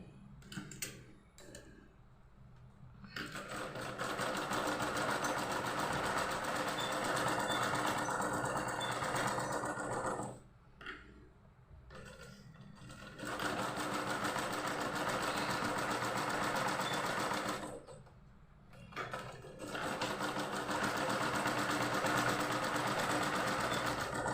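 A sewing machine stitches cloth for a Hindu deity's garment, running in quiet, steady whirring bursts of several seconds each, separated by brief pauses.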